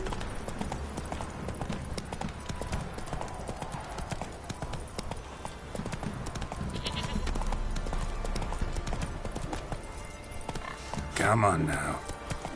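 Roach the horse trots in The Witcher 3, with steady, rhythmic hoof clip-clops continuing throughout under a voice that speaks briefly.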